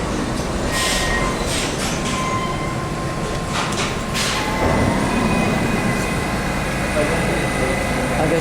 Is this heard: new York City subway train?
yes